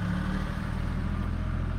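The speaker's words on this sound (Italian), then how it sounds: "scusate il trattore" A tractor engine runs steadily outside, a continuous low rumbling drone at moderate distance with no breaks.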